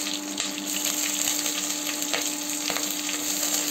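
Cumin seeds frying in hot oil for khara pongal give a steady, close sizzle with faint crackles and occasional stirring, with no talk over it.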